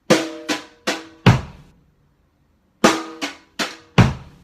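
A short drum pattern of crisp brushed hits with a low thump, four strokes, a pause of about a second, then the same four-stroke figure again, close and clear.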